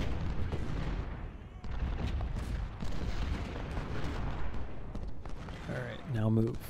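Musket volleys and artillery rumble without pause across a Civil War battlefield in Ultimate General: Civil War, a thick wall of crackling fire and booms, with a voice briefly rising near the end.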